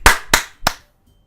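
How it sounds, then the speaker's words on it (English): Three sharp, evenly spaced claps of a short applause sound effect in the visual novel game Doki Doki Literature Club, close and loud, with no one talking. "The four of us applaud."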